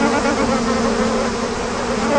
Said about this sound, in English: Bees work on many crops as pollinators.